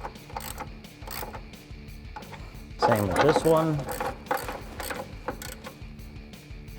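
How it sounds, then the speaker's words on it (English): A 16mm socket on a ratchet clicks in rapid, repeated bursts while tightening bolts on rocker guard brackets for a 2021-2023 Ford Bronco, close and clear, with someone talking briefly partway through. "I'm going to take my 16mm socket and ratchet and tighten these up."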